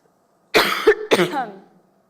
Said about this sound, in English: I'm getting over a cold, so I'm losing my breath and having to cough here